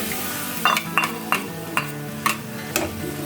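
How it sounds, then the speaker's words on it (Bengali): Tomatoes frying in spice paste for a tilapia curry in mustard-oil style, with a spoon scraping and clinking against the pan about six times at a steady pace over a constant close sizzle. "যেহেতু আমার এখানে টমেটো রয়েছে, এটাকেও আমার একটু কষাতে হবে।"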